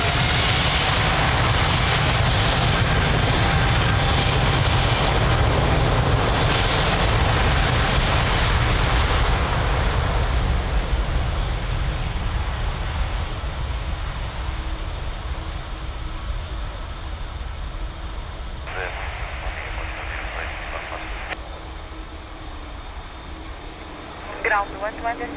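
Airliner taking off from runway 02 at Lisbon Airport: a loud, steady broadband engine roar that builds early and then slowly fades as the aircraft climbs away, with faint radio chatter in the background.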